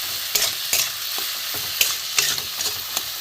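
Spice paste with grated ingredients and a spoon of sugar sautéing on low heat in a pan for mouri potol, a fennel and pointed gourd dish: a continuous near sizzle broken by sharp spatula scrapes and knocks.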